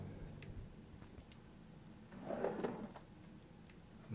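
Drawers are slid open in Remothered: Tormented Fathers, a faint quiet scraping and wooden rumble in the middle, with a few soft ticks and knocks around it in a hushed room.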